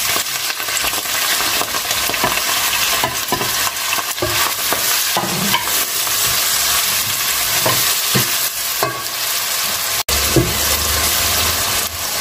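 Onions and salsiccia sausage frying in hot oil in a pot, a loud continuous sizzle and crackle with occasional stirring knocks, close and without talk.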